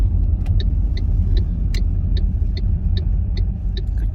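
Car driving on roads between Fredrikstad and Sarpsborg, with a steady low engine and road rumble throughout and a regular faint ticking, like a turn indicator, clicking above it.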